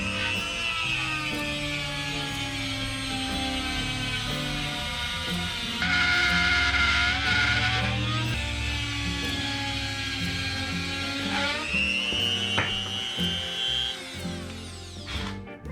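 A power tool plunges into a drywall sheet and is guided around the edge of an opening, a loud continuous whining buzz that shifts in pitch as the cut changes direction and load, heard alone without talking.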